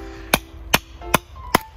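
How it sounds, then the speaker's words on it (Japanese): Four sharp, evenly spaced metallic strikes of a heavy hammer on a steel chisel outdoors at a forest campsite, loud and close with brief ringing after each blow. "あ、このハンマーがすごくいい。"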